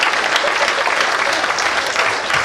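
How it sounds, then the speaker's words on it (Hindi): A comedy show audience claps with raised hands, producing a dense, even roar of applause that stays loud and steady from start to finish with no talking over it. "एक बार हाथ खड़े करके तालियां बजाओ जरा।"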